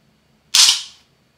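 A single sharp clappy snap from household window blinds being pulled shut, one loud bright crack with a quick double impact that decays within half a second, isolated in silence.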